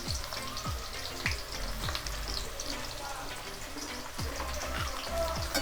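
Chilli chicken sizzling and crackling in a hot pan, a continuous close frying hiss dotted with sharp pops and spatters throughout.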